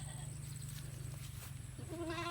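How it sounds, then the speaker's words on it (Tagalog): Goats bleat outdoors over a low steady background hum, with one clear, fairly faint bleat rising near the end of the stretch. "Ang mga kambing."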